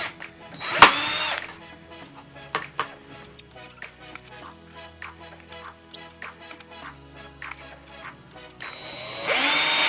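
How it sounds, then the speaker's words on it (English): A power drill bores pilot holes into a front splitter for a 2013-2014 car, with short bursts of whirring and grinding separated by brief pauses and tool handling, close and fairly loud, no talking. "now it's time to drill"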